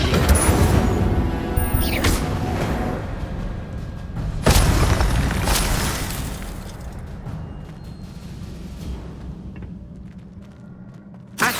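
An Incendio fire spell cast in Hogwarts Legacy: a loud fiery burst with sharp blasts near 2 and 4.5 seconds, a sustained roaring rumble that fades, and a final pop at the end, with no speech.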